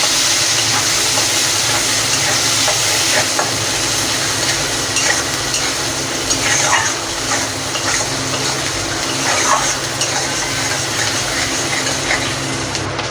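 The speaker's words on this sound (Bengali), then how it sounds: "এবার দিয়ে পেঁয়াজটা একটু ভালো করে ভেজে নেব" Onions fry in hot oil with nigella seeds for a tilapia curry, giving a loud, steady hiss that runs without a break and is heard alone.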